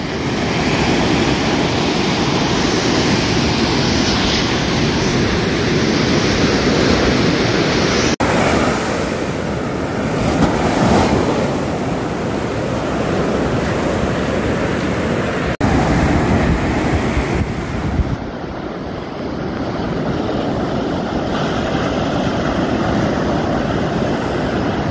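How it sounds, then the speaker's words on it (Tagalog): Large ocean waves breaking on a shore, a continuous roaring surf with surges and swells, heavy wind buffeting the microphone, no voices. "Lalaki ng alon. Delikado mga maing isda."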